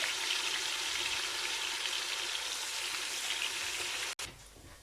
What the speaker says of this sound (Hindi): ये तकरीबन 2 मिनट भून लिया हमने अदरक लहसुन का पेस्ट